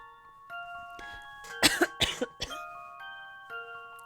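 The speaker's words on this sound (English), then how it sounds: "Let me first cough a little bit." A short burst of several close, loud coughs in the middle, with a faint electronic tune and chiming tones from the video game Professor Layton and the Lost Future playing underneath.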